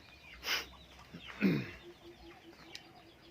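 A couple of soft chicken clucks nearby, with quieter bird calls in the background and a faint repeated chirp between them.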